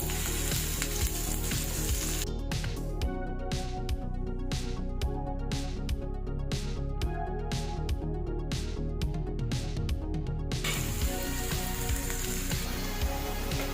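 Onions, green chillies and curry leaves sauté in a hot pan for beetroot pachadi, giving a steady close sizzle and frying crackle throughout, with brief stirring noises and no talking.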